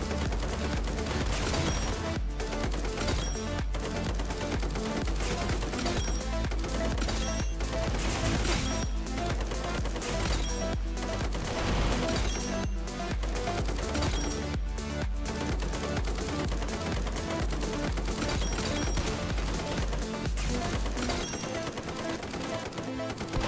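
Rapid gunfire from a custom-built gun in a video game crackles in dense, continuous bursts, loud and close, layered over constant background game sound for the whole stretch before it cuts off at the end.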